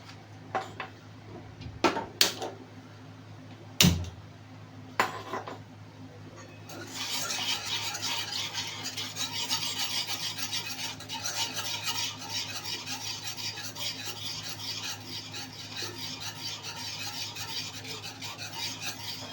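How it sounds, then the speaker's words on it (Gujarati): Khandvi batter stirred in a pan as it heats: a few sharp clinks and taps at first, then a continuous raspy scraping and swishing of a spoon against the metal pan, steady and close. "હવે આપણે એને ગરમ કરવા મૂકીશું અને સતત જાડું ના થાય ત્યાં સુધી હલાવતા રહીશું"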